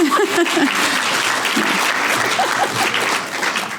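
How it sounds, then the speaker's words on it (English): A meeting audience claps steadily and warmly, the applause holding at an even level before easing slightly at the end. "give her a clap, give her applause."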